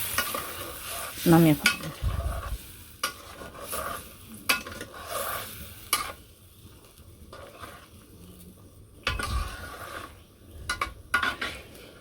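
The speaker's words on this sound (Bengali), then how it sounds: "মাছ সাথে জিরের ফাঁকি আর বেরেস্তা সব কিছু ঢেলে দেবো।" Fried fish with cumin paste and crisp fried onions sizzles and is stirred in a pan. Steady frying hiss sits under intermittent utensil scrapes and clatter, and a voice speaks briefly near the start.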